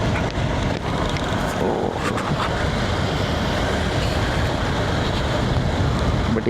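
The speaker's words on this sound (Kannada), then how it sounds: "ನೋಡಿ ರೋಡಲ್ಲಿ ಯಾವ ಮಟ್ಟ ನೀರು ಹರಿತಾ ಇದೆ ಅಂತ" A vehicle drives through rainwater flowing over a road during heavy rain on the way to Mysuru. A loud, continuous rushing wash of water and road noise sounds without pause.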